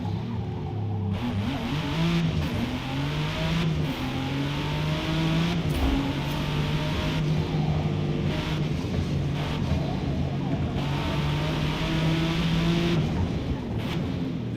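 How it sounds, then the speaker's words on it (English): A race car engine drones steadily in the Forza racing game during a career-mode race, its pitch climbing and falling through gear changes for the whole stretch, loud and close with no talking. "the audio for the car seemed way louder than me"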